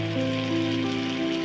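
Masala sizzles steadily in a hot pan while being sautéed for paneer tikka masala, a close, continuous frying hiss over a faint background hum.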